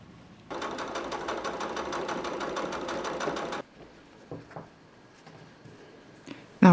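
A sewing machine runs steadily for about three seconds, stitching a 5/8-inch seam through two pinned fabrics for a flat felled seam, then stops, leaving a few soft clicks and handling noises.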